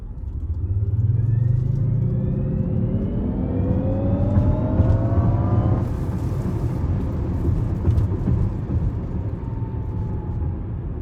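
A 2020 Jaguar I-Pace EV400 HSE electric car accelerates hard, its rising electric motor whine sweeping upward in pitch over road rumble before easing into a steady cruising hum.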